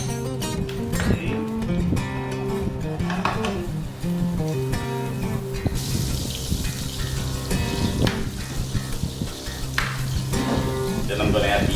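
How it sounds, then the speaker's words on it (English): Oil and a tablespoon of butter sizzle in a hot pan, a steady crackling fry heard up close, with stirring noises and the cook talking over it. "in a hot pan, I'm just going to add some oil. And a tablespoon of butter."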